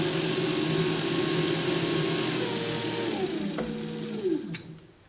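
A 180 lb 48 V Coroute trolling motor running steadily with a loud, close whine and hum, its pitch sliding down near the end before the sound drops away.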